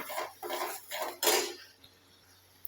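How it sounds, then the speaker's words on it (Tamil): A utensil stirs homemade hair oil mixed with black cumin in a bowl, making four quick scraping strokes close by before falling quiet. "இதை நல்லா கலந்து விட்டுடலாம்"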